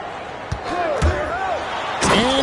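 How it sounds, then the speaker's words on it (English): Slam dunk in the basketball video game NBA 2K26, with a sharp thud of the ball and rim amid steady arena crowd noise while a commentator talks over it. "And Thompson slams it home."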